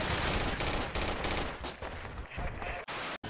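Rapid bursts of automatic gunfire crackle almost without pause in a Project Reality military shooter game, dense and loud for several seconds before cutting off briefly near the end.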